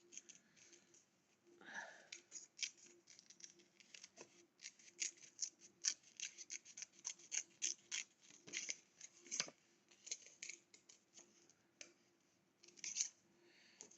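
Scissors snipping paper for a scrapbook page, a quiet, close run of short crisp cuts and rustles in irregular bursts, with no talking.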